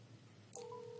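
A smartphone places a voice-dialed call, and a steady electronic dialing tone starts halfway through and holds to the end, quiet and clear over a low hum.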